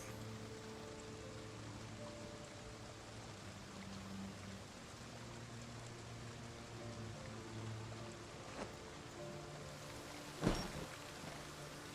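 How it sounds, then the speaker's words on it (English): Steady rain falls in the zombie survival game Project Zomboid, set in Knox County, as a faint, even hiss of patter with a soft, brief splash near the end. "It's still raining."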